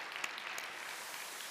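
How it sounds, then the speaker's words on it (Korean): A church congregation applauds during a Sunday service, thanking a choir dressed in hanbok and tuxedos, with a steady, fairly soft wash of clapping from many hands and no speech. "다시 한번 격려하고 감사의 박수 드립니다."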